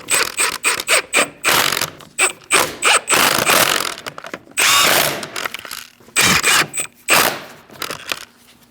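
A power tool rattles in short repeated bursts, about a dozen of them, with brief pauses between, as it tightens the wheel lug nuts on a 2000-2006 Mini Cooper. The sound is close and loud, with no talking.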